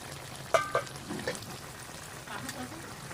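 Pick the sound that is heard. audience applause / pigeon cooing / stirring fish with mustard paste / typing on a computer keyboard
stirring fish with mustard paste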